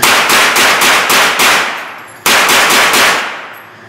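Rapid gunfire from a Thureon Defense rifle, two loud bursts of about six sharp shots each with a brief pause between them, close and unaccompanied by talk.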